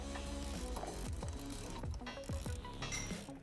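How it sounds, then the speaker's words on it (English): Rapid ratchet clicking as a 3/4 inch socket tightens a nut on the suspension of a 2007-2018 Jeep Wrangler JK during a lift kit install, loud and close, in several quick bursts of pawl ticks with no talking. "We're going to use a 3/4 inch socket to tighten down this nut."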